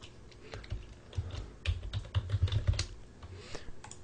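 Rapid typing on a computer keyboard, a close, irregular patter of key clicks with a few louder taps, no voice.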